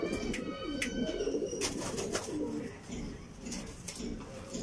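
Soft, low cooing of pigeons repeats close by, with some wing flutters and light rustling around them.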